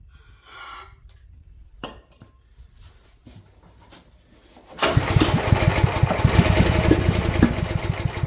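A Champion generator, unused for years, cranks with a few quiet pulls and clicks, then its engine catches and roars into a loud, steady running drone up close.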